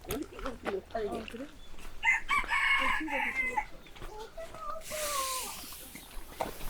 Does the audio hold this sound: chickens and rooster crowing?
yes